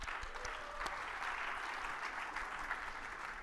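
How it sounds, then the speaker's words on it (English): A live event audience at a tech conference in London claps in sustained, even applause, a full crowd sound with a few sharper individual claps near the start. "So give them a round of applause."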